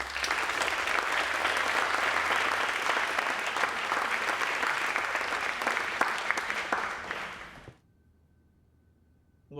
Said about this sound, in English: Please give a round of applause to Dr. Albie Miles.